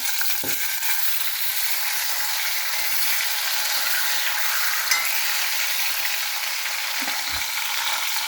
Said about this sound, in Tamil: ரெண்டு தக்காளியை வறுத்து போட்டிருக்கேன்